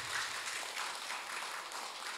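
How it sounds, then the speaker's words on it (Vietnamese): A seated audience at a monastery Dharma talk gives a round of applause, a steady, fairly faint patter of many hands clapping that lasts throughout. "Cái này là nên cho một tràng pháo tay cho vui nè."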